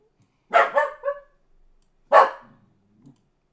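A dog barks indoors, two close, loud bursts a second or so apart, the first a quick double bark, with a soft trailing sound after.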